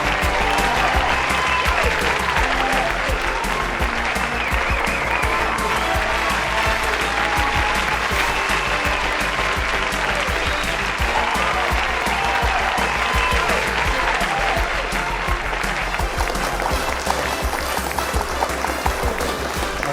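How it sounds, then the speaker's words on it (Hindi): A crowd claps loudly and continuously for twenty seconds at the grand finale of a Hindi student quiz competition, with dense, sustained applause. "जोरदार तालियां।"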